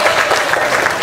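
A brief, dense burst of applause erupts from a large crowd at a political rally, loud and continuous clapping with no break.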